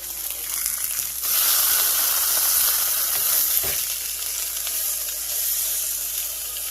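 A Wagyu steak sizzles loudly in a pan right after being flipped, a dense, steady frying hiss that swells after the first second and holds, close up, with no voices.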